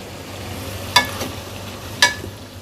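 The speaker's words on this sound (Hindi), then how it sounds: "इसको 1-2 मिनट अच्छे से भूनना है" Minced meat with tomato and green chilli frying in a pan, a soft low sizzle broken by two sharp metallic utensil clinks against the pan, no voices.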